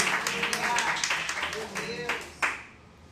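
A church congregation applauding, dense overlapping claps from many hands at moderate distance, fading out toward the end.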